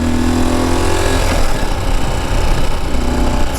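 A Ural Gear Up 2WD sidecar motorcycle runs loud and close while being ridden, its engine a rough steady drone that rises and falls with throttle, with wind noise and no talk.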